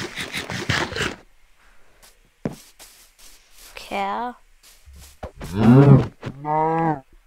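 A cow in the video game Minecraft moos in a couple of drawn-out lowing calls, clear and near, mixed among scraping game sounds and a player's voice.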